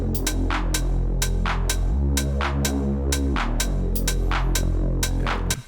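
Compressed deep bass house pad with heavy phasing, a thick low throbbing drone swelling and sweeping, under crisp repeating percussive hits in a steady electronic groove.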